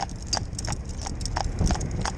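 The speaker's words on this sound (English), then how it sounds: "Big free moving horse, you know, nice free moving horse." A heavy working horse walks on a hard surface, hooves clip-clopping in a steady, close rhythm of about eight footfalls.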